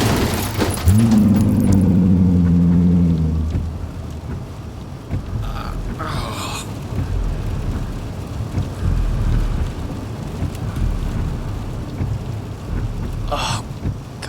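Heavy storm rain drums steadily around a car on the road, with a loud low engine rumble and a voice at the start, then a few brief crackling bursts over the constant downpour.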